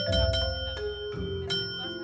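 A small bell pressed repeatedly by Hector Salamanca, the wheelchair-bound character in Breaking Bad, gives several ringing dings in quick succession, each with a lingering metallic tone, and no voices are heard.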